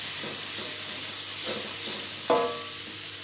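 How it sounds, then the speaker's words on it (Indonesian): Ground shallots and garlic sautéing in a pan, a steady close sizzle and hiss with a few soft stirring scrapes and one brief louder clatter, no voices. "Kemudian kita tumis bawang merah dan bawang putih yang tadi kita sudah ulek halus."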